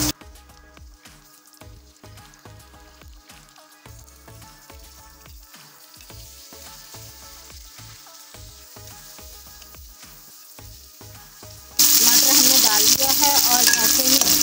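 Chopped tomato dropped into a pot of frying ginger and meat for aloo gosht, a loud wet sizzle and crackle suddenly swelling near the end after a stretch of quieter cooking noise with talk over it.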